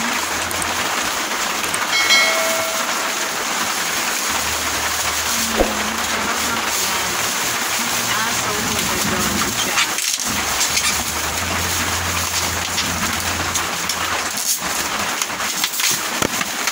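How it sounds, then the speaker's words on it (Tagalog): Constant dense hiss of heavy rain, loud and close, with occasional clatters and thumps breaking through. "Ang lakas ng ulan."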